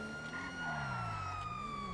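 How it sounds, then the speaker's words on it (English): A police siren wails from an LAPD Crown Victoria in GTA Online, rising and falling steadily over engine drone, close and loud with no talk over it. "Now to hit the sirens, you just hit the left analog stick like a button"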